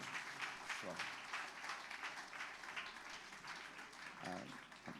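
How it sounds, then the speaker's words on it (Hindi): A church congregation claps to honor an elder at a special service, with rhythmic group clapping running steadily while a voice speaks over it at moments. "सब लोग ताली बजाकर"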